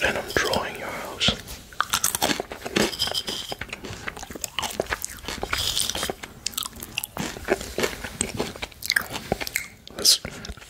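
A finger draws through toasted breadcrumbs up close for ASMR, giving dense crisp crunching and scratchy rustles in irregular bursts, with soft whispering over them.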